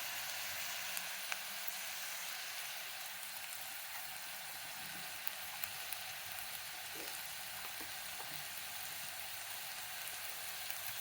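Coriander powder and chili powder frying in a pan for a mutton and okra curry, a soft, steady sizzle with no voices.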